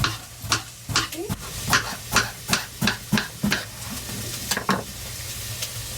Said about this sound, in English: So the onion and garlic are just frying slowly.